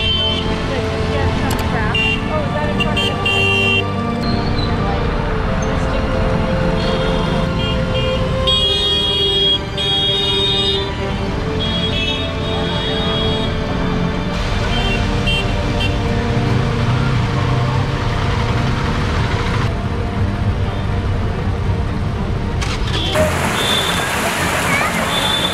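Busy street traffic in Jaipur near Hawa Mahal, a dense constant roar of engines with frequent car horns honking close by, while a person talks over the din.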